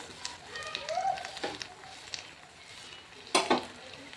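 Garlic paste and onion paste fry in a pan with a soft hiss, broken by scraping stirs and a brief louder clatter near the end, while a voice talks quietly over the cooking.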